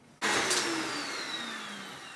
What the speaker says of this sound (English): I'm going to plug back up this Vertex corded and just vacuum this room we're in now for about 1 more minute.